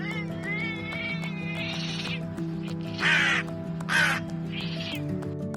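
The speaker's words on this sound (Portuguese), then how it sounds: "essa briga entre um corvo e um gato é simplesmente inacreditável" A crow and a cat fight with harsh, repeated caws and a few drawn-out, strained meows trading back and forth. The calls sound close over a constant low hum.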